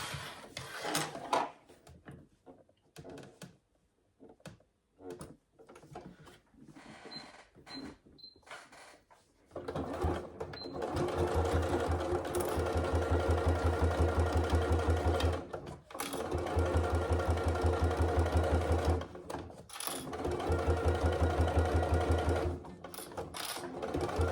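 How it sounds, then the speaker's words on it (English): A sewing machine stitches a 1/4 inch seam along the bottom edge of a wash bag, starting after some quiet fabric handling and clicks, then running in steady close bursts with a brief pause midway and another near the end. "So we're going to just be stitching at a 1/4 of an inch seam allowance along this bottom edge"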